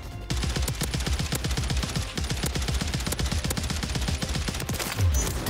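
Rapid automatic gunfire in the video game Warzone ahead of a long-range headshot, with dense bursts of shots rattling almost continuously at a steady, fairly loud level.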